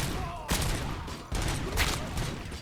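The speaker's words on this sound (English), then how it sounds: "especially when this machine gun starts shooting at us" Rapid machine gun fire in a first-person shooter, dense bursts of gunshots layered over constant battle noise, fairly loud and continuous with sharp onsets marking new volleys.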